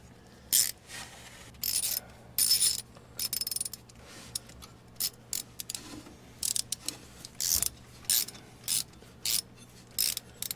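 Hose clamp being tightened on a car, with repeated short bursts of ratchet clicking separated by brief pauses, close and fairly loud over a low steady hum.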